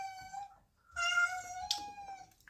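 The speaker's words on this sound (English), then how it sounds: "Excuse the cat in the background crying." A cat cries in the background indoors with two drawn-out, tonal meows, the second louder and longer. No other sound competes with them.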